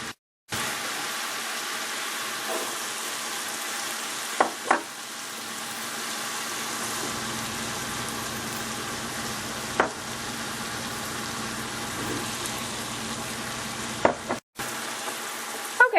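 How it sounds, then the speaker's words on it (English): Onion and bell pepper sautéing in olive oil give a steady, close sizzle throughout, with a few brief scrapes and knocks of stirring, alone without talk. "Okay, and so we're just going to saute the vegetables."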